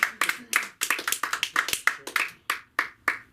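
A small group at a comedy open mic claps unevenly for a few seconds, sharp close hand claps overlapping in a loose, scattered rhythm rather than a dense wash of applause.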